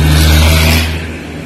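A broken-down van drives past on a street in Cyprus, its loud engine rumbling close by before fading slightly as it moves away.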